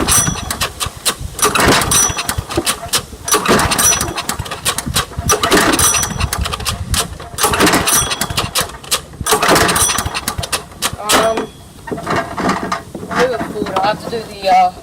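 A lawn mower engine being started after fuel is added, rough bursts of engine noise cranking and catching repeatedly, loud and close, with someone talking.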